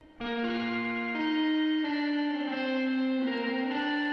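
A sustained, slightly distorted electric guitar chord wavering with tremolo, washed in springy reverb, played alone.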